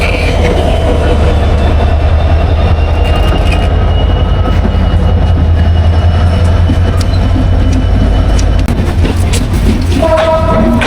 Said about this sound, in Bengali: এই মুহূর্তে ছেড়ে যাচ্ছে চিত্রা এক্সপ্রেস